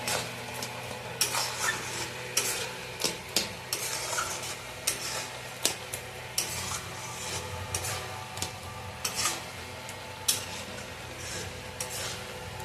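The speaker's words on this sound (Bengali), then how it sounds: "চিনিটা দিয়ে আমি নাড়তে লাগলাম" Sugar stirred into carrot halwa in a pan: repeated close scraping and clinking of a spoon against metal over a low simmering sizzle, in an even rhythm with no voices.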